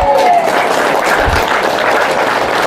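A church congregation claps together during worship, a continuous loud spread of applause with a brief musical tone at the start.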